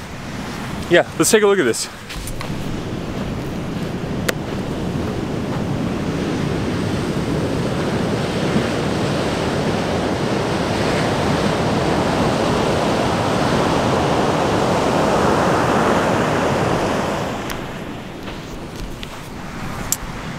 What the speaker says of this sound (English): So the waves are actually kind of big today.